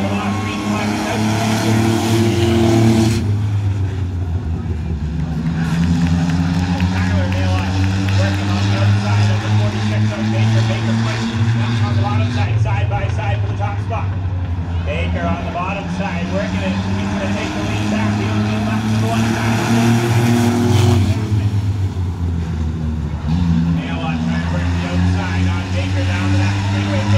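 Race cars in a Six Shooter heat race roar around the track, engine noise swelling and fading in long passes as the pack goes by, with an announcer talking over the action.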